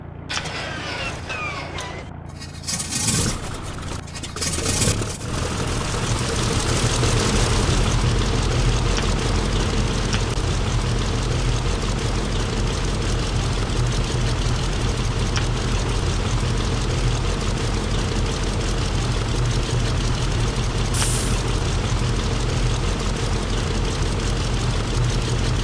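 A Bristol Bulldog Mk2A biplane in a flight simulator coughs into life on its gas-pressurised start, then settles into a steady, loud propeller and engine idle that drones on alone.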